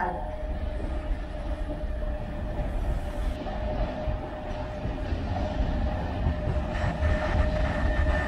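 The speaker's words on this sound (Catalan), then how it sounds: "Próxima circulación. Un tren sin parar." A non-stopping train rumbles steadily through a station at Sant Vicenç de Calders, Spain, at moderate distance, a continuous rolling roar with a faint high whine and light rail clatter.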